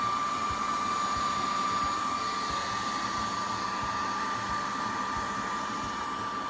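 A heat gun blows steadily while shrinking tubing over a steel braided line, a loud constant whooshing hum with a faint high whine that holds unchanged throughout, with no talking.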